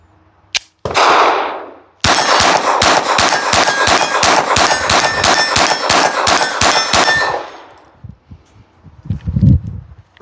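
A Glock 22 fitted with an Advantage Arms .22LR conversion kit fires a loud single shot, then a rapid string of about fifteen sharp, ringing reports in steady succession, followed by fading quiet.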